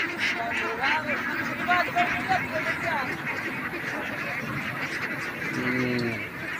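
A flock of about two thousand ducks on a farm in an open wetland, loud quacking and honking calls repeating throughout, with people talking among them.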